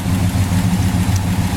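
A red 1968 Pontiac GTO convertible idling, its exhaust giving a deep, steady, lumpy rumble with an even pulse, loud and close for a brief moment with no talk.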